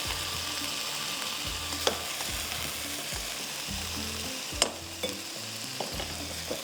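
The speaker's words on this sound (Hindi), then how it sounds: "हल्का सा इसको फ्राई कर लिया हमने" Fish frying in oil with masala in a pan, a steady close sizzle with occasional stirring scrapes and a few sharp clinks of a utensil, with no talking.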